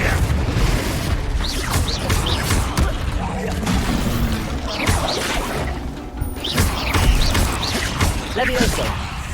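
In Hogwarts Legacy, the fiery Confringo spell explodes during battle: repeated loud bursts, crashes and whooshes pile densely on top of each other, with voices heard among the combat noise.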